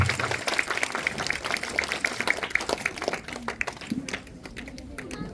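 A crowd of children applauds at a gathering, with a busy, crackling patter of many hands that thins toward the end as a voice cuts in.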